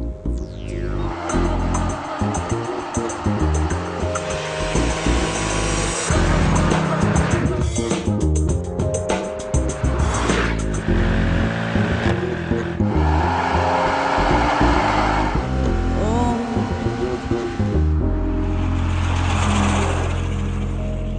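A sports car driven hard in a comparison test, its engine revving up and down through gear changes, loud and close throughout with some talk mixed in.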